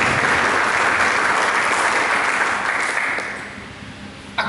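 Church congregation applauding loudly and steadily during a sermon, a dense sustained clapping that fades toward the end before a brief sharp knock.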